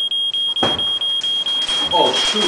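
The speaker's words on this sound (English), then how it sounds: "That's a fire alarm" Smoke alarm giving rapid, regular high-pitched beeps throughout, steady and loud, while a person briefly speaks and background movement and noise rise underneath.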